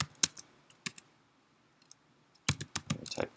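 Typing on a computer keyboard at a terminal, a few isolated key clicks followed by a quick burst of rapid keystrokes, close and clear with no talking.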